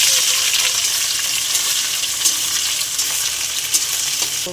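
Onion and whole spices, bay leaf, cinnamon and dried chilli, frying in oil for chicken pulao, giving a steady, close, even sizzle with faint stirring clicks throughout and no talking.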